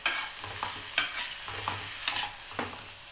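Cooked carrots being mashed in a pan for carrot halwa. Soft, wet squelching and a low sizzle run under repeated thuds and scrapes of a utensil pressing against the pan at an uneven rhythm.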